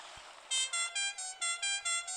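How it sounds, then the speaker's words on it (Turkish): A bus horn in the video game Truck Simulator Ultimate honks in a quick series of about seven short, bright blasts, loud and evenly spaced, after a moment of low background hum. "Kornası da güzel ha otobüsün var ya."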